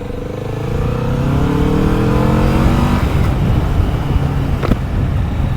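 A 2023 Kawasaki Vulcan S motorcycle engine pulls steadily while riding, its loud droning note climbing through the revs before settling into a rough, sustained rumble with wind noise.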